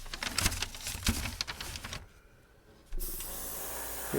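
An airbrush or spray can hisses onto a large model plane, with short bursts of spray and clicks up close, a pause, then a steady, even hiss to the end.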